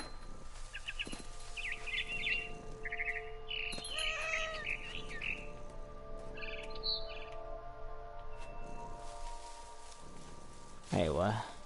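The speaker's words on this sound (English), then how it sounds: "Then I heard chirping outside my window. It was a barn swallow going back to her nest." A barn swallow chirps just outside a window in the video game What Remains of Edith Finch, with several short, bright calls clustered mid-scene over steady ambient game sound and low background tones.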